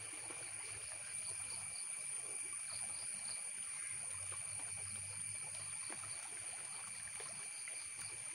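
Water flowing along a small stream, a faint, steady trickle and gurgle heard from nearby, with a thin high ringing tone above it and no talking.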